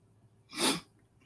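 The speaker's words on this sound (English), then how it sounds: "I feel like I have to sneeze" A single close sneeze, a quick burst of breathy noise rising and falling in under half a second against quiet background.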